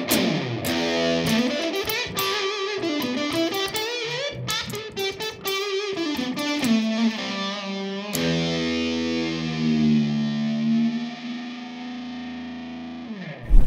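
An electric guitar plays through a gain effect pedal, giving a distorted, saturated tone with picked notes and bends, then a long sustained chord ringing out before ending abruptly.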